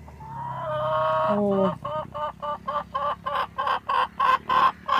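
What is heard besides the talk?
chickens clucking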